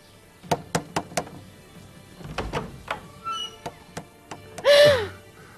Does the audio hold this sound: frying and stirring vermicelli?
no